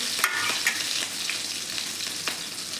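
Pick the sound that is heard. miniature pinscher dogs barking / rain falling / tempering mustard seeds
tempering mustard seeds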